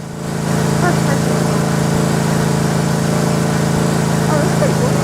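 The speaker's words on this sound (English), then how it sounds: "I'm using a lawnmower." A lawn mower engine in a grass-cutting game starts quieter and then settles into a loud, steady droning hum that runs on unbroken, with faint chatter in the background.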